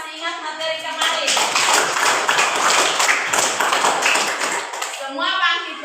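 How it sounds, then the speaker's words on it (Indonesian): Children in a primary school classroom clap their hands together in a loud, dense burst of rapid clapping lasting several seconds, with a teacher's voice heard briefly before and after. "Oke, tepuk tangan."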